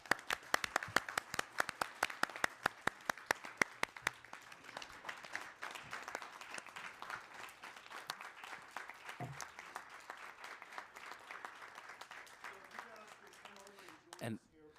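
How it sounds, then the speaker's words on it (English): A crowd applauds steadily at a transit board of directors meeting, dense clapping from many hands that holds strong, then gradually thins and tapers off near the end. "let's give them one more big round of applause"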